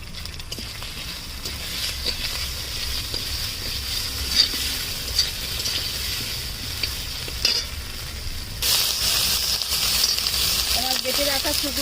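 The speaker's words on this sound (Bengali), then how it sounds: "এখানে বেটে রাখা জিরেটা দিয়ে দিচ্ছি" Ground cumin paste added to a pan of frying snakehead fish curry with mango sauce, giving a steady, close sizzle with stirring scrapes throughout, then a louder burst of sizzling near the end.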